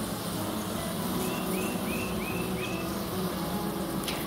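Honeybees stirred up in a hive after smoking give a dense, continuous buzz throughout, with a few faint higher tones drifting over the drone.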